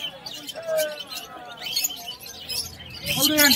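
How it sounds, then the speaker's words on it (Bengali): Pigeons, including a tiger-coloured pair of fantail pigeons, call and coo at the Birnagar haat bird market, with soft chirps and low coos mixed under a person talking nearby. "এখানে এক জোড়া লক্কা পায়রা দেখুন, টাইগার কালারের মধ্যে রয়েছে।"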